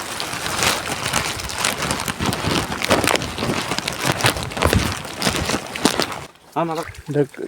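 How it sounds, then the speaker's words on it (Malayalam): Rain falls steadily with pattering and rushing noise, then eases near the end as a voice speaks briefly. "മഴ പെയ്തുകൊണ്ടിരിക്കുകയാണ് മഴയത്താണ് ഇപ്പോൾ നടന്നു പോയിക്കൊണ്ടിരിക്കുന്നത്"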